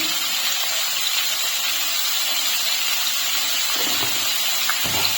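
Papaya pieces fry in hot oil in a pan with a steady, loud sizzling hiss, constant and close, with a few faint clinks of stirring near the end.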